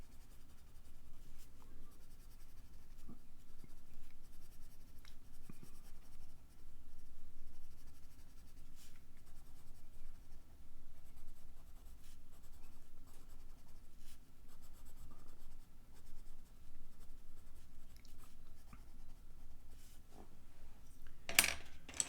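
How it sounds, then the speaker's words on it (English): Prismacolor colored pencils shading a drawing of roller coaster cars, a soft, steady scratchy rasp of pencil on paper running throughout at close range, with no voices. "These days I've been using Prismacolor pencil crayons for the most part."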